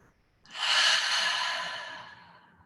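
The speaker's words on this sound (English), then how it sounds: "when you exhale, let it out the mouth. We'll keep breathing like this" A slow, deep exhale pushed out through the mouth, close and breathy, swelling quickly and then fading gradually over about two seconds, with no talking during it.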